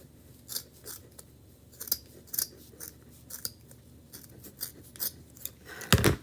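Scissors trimming craft pieces to an even length for a Chalk Couture gnome project, a series of crisp close snips at an uneven pace, with a louder rustle at the end.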